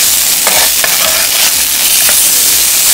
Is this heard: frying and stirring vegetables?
yes